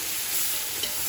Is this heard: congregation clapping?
no